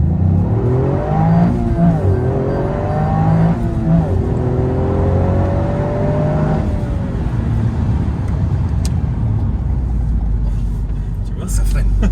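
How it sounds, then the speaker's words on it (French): A Toyota Yaris GR accelerating hard from a standing start without launch control, engine note climbing loudly through several gear shifts before easing off into road and tyre roar, with talking over it. "Je vais faire un petit départ histoire de voir ce que ça donne sans launch."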